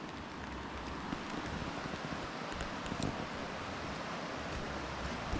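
Creek water flowing at Wolf Creek Park in Oregon on a drizzly day, a soft, constant broadband rush with no distinct splashes, fairly faint and steady throughout.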